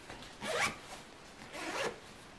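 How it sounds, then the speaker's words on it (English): Two quick pulls of a packing cube zipper, each a short rasping zip, close and fairly quiet, with a brief pause between them. "All right, let me unzip it."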